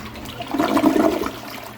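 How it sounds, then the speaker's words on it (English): A newly installed toilet flushes once up close, with a short swelling gurgle and rush of water that peaks and then drains away. "I bet it'll still flush."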